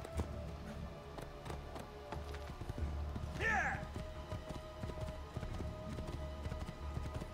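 Horse hooves clip-clop steadily over hard ground in Assassin's Creed II, a soft rhythmic patter with a brief whinny partway through, fairly quiet under light background game sound.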